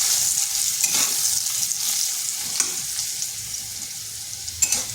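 Potatoes sizzle steadily in hot oil with turmeric powder and salt, a close, dense crackling hiss with occasional soft scrapes of a spatula.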